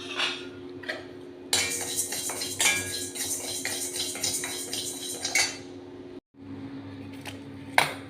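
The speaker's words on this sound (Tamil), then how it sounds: "இப்போ கருப்பு கவுனி அரிசியை வறுக்கிறோம்" Black kavuni rice dry-roasting in a pan sounds like a busy, close rattle of grains and scraping spatula clinks over a steady low hum, with a brief cut to silence near the end.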